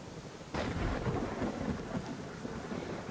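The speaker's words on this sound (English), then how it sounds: "Because it's pouring hard." Heavy rain and thunder in the video game WolfQuest 3, a sudden loud rumble breaking in over a steady dense downpour that continues alone to the end.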